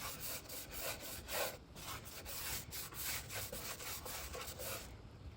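Howard's Citrus Shield wax is rubbed by hand onto a wooden bookshelf in repeated, rhythmic back-and-forth strokes, a close, soft scraping swish that continues without pause.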